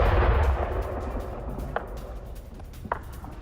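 Artillery bombardment from Pakistani shelling along the Durand Line in news footage: a heavy, deep rumbling blast opens loud and fades, followed by a couple of fainter distant thuds.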